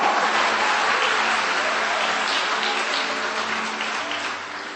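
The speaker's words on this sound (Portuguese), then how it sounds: "dê um aplauso a Ele e libere um grito de liberdade nessa manhã" A church congregation claps in sustained, dense applause during a Sunday service, loud and close at first and gradually tapering off.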